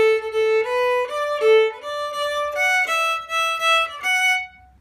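A solo fiddle plays the opening bars of a tune, a run of clean bowed notes stepping downward, close and clear, ending as the last note fades.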